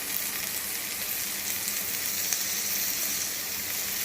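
Tomato drops into hot frying ginger-garlic paste, a loud, continuous, even sizzle that stays close and steady throughout.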